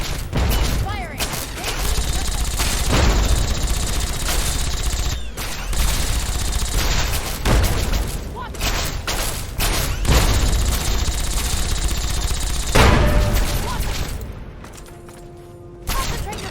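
Sustained bursts of automatic gunfire and heavy shots from Fallout 3 combat, loud and dense throughout with booming impacts, easing briefly near the end before firing resumes; voices call out under the shooting.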